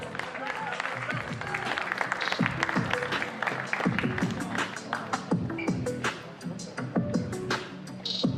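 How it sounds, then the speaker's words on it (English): Applause from a boxing weigh-in crowd, steady and fairly loud across the whole stretch with scattered sharp claps, probably with some talk mixed in underneath. "Keep the applause coming for her opponent"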